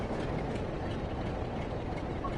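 A train in Train Sim World 4 on the Blackpool branches, with a Class 08 shunter nearby: a low, steady rumble of rolling stock, faint and continuous with no voices.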